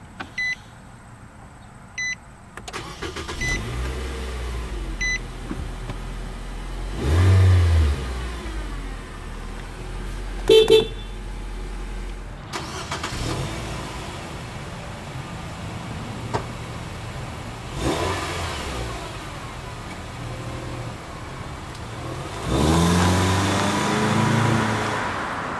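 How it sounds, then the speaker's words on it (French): A 2014 Nissan Sentra SV is push-button started, with chimes and beeps, a brief crank and catch, then a settled idle punctuated by a few short revs, heard close inside a quiet dealership setting. "On va maintenant démarrer le véhicule."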